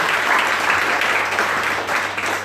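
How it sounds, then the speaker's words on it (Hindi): A church congregation claps together in a steady, dense round of applause, fairly loud and continuous, with no voices over it. "चर्च की ताली बजाते"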